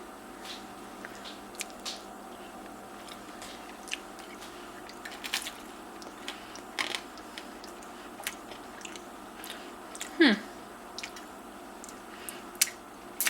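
Close-up chewing of crunchy baked macaroni and cheese: soft wet squishes and small crunches in an irregular rhythm, quiet and near, with no talking.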